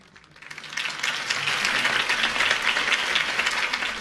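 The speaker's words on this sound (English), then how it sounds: "If only Mr. Wayne, my campaign's largest backer, could have heard that applause" Crowd applause following a campaign speech in the Batman Telltale game, swelling quickly from quiet into sustained, dense clapping that stays strong to the end, with no voices over it.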